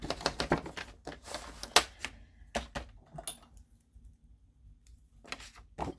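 Quick snips of scissors trimming folded paper, a cluster of close crisp cuts at the start, then a quiet pause before a few more snips near the end.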